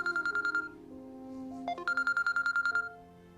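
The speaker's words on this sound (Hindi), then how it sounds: "डॉक्टर ताहिरा का फोन।" A telephone rings with two bursts of rapid electronic trilling tones, separated by a short pause, close and fairly loud against a quiet room.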